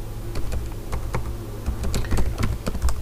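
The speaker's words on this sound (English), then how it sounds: "I'll type enable." Fingers type a command on a computer keyboard during switch configuration, a quick run of close, crisp key clicks with no talking.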